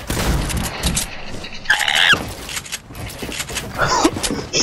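Scattered Fortnite gunfire, a few sharp shots and short bursts spread irregularly, mixed with other game sounds and faint voices.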